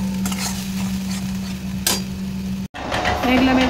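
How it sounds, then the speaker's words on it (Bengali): Spice mix frying with tomato sauce in a pan, a steady close sizzle with scraping stirs and a brief cut partway through; a faint voice occasionally underneath. "টমেটো সস দিয়ে দিলাম, দিয়ে মশলাটাকে কষে নিচ্ছি"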